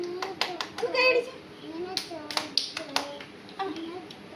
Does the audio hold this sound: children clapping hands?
yes